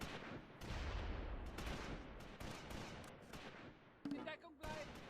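Rifle grenades and gunfire rip through infantry in a Close Combat wartime battle, a steady barrage of overlapping blasts and shots with a brief voice near the end.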